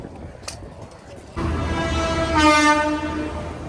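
A train's horn sounds in a long, loud blast over the rumble of rail cars at Churchgate railway station in Mumbai, following a quieter stretch of background noise.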